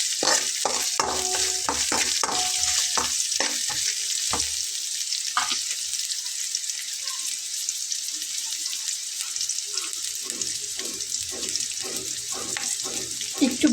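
Coriander leaves frying with salt in a pan, a constant hiss of sizzling broken by frequent sharp scraping and stirring strokes of a spatula.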